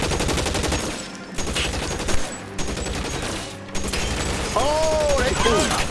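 Gunfire in the LA Noire video game crackles in dense, rapid volleys with brief gaps and a few heavier booms, loud and close, with a voice speaking over the shooting.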